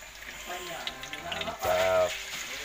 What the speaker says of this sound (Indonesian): Oke, minyak sudah panas. Kita masukin ikannya.